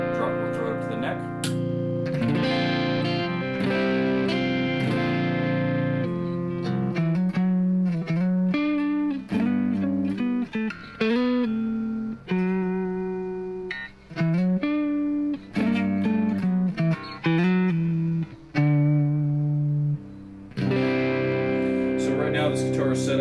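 A heavily modified PRS McCarty Standard electric guitar on its neck humbucker, tuned to drop C, plays distorted metal riffs and sustained chords, loud and close, with brief gaps between phrases.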